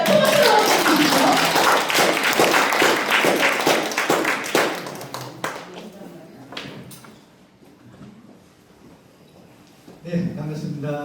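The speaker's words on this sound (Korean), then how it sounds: "큰 박수로 맞춰주십시오." An indoor audience at a business presentation claps to welcome a speaker onstage, loud applause with sharp individual claps that thins out and fades, then a voice begins speaking at the end.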